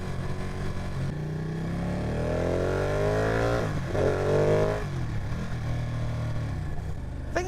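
Close, steady engine drone from a Ducati 959 Panigale motorcycle riding downhill, its pitch rising and falling through gear changes with a brief dip in the middle, continuous and loud throughout.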